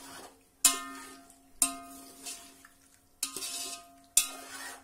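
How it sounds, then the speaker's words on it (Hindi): Mutton and yogurt are stirred and fried in a pan over a full flame. A spoon strikes and scrapes the pan in four sharp, spaced knocks, with soft frying and stirring sounds between them, close and fairly quiet. "अब इसमें हम दही डाल देते हैं और इसको मिक्स कर लेते हैं। दही के साथ 3-4 मिनट भून लेंगे"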